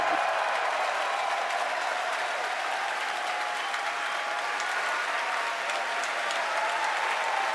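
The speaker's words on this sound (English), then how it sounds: "Again, over the cheering," A crowd at a SpaceX Falcon Heavy launch carrying an Arabsat-6A satellite cheers and applauds, a dense, steady roar of clapping and voices that runs unbroken for several seconds.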